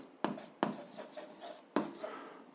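A pen scratches across paper while an algebra exercise is worked by hand: a few quick, faint, close strokes, each starting with a sharp scrape, against near silence.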